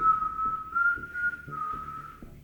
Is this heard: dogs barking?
no